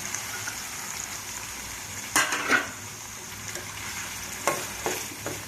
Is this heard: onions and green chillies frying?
yes